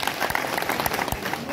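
Audience applause for Modi at a public gathering in Jammu and Kashmir, a dense, steady patter of many hands clapping for a short burst, fairly distant and even throughout.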